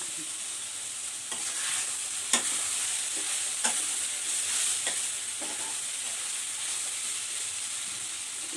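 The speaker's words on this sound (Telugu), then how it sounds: "బాగా ఉప్పు కారం అంతా కలిసేదాకా వేయించుకోవాలి" Chana dal with salt, chilli powder and coriander powder is fried and stirred in a pan: a constant hissing sizzle broken by repeated scraping strokes of a spoon, close and clear, with no voices.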